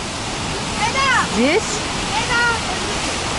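The Düden waterfall in Antalya, Turkey, pours in a steady, broadband rush close by, with a few bird chirps over it and someone speaking briefly.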